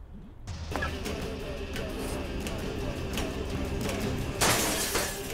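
A glass car shattering in the video game What the Car?, a bright crash of breaking glass that swells near the end, set over steady game music and effects with a voice talking underneath.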